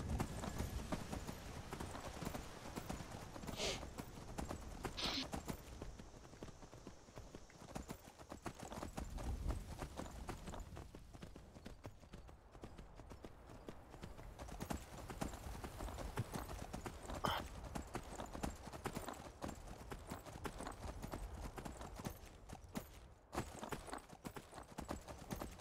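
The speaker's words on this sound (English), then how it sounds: "You take my horse to get up the mountain." A horse's hooves clip-clop steadily in a video game as the mount climbs toward a mountain, a quiet, even, repeating trot that runs throughout without any talk over it.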